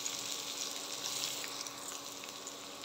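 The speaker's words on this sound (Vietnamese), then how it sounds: "mình chiên cái miếng chuối nó vàng như thế này là được ha" Pieces of green banana sizzle in hot oil, a steady, even frying hiss that carries at moderate volume for the whole stretch with no voices.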